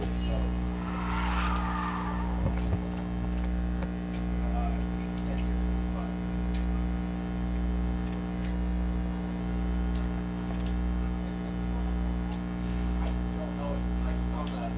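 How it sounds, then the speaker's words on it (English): Tire skid from a car drifting in the NFS No Limits racing game, a steady screech over a loud constant engine drone and hum, with a brief sharper squeal early on. "Holding that drift very nice."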